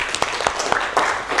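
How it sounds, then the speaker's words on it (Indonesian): A small audience at a university teaching-performance assessment session gives brief applause, a handful of sparse, uneven hand claps lasting only a moment. "Tepuk tangan dulu, Ge."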